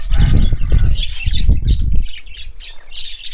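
A pair of TCB birds in an aviary squawk loudly and harshly for about two seconds, with wings flapping among the calls, then fade to softer rustling and chirps.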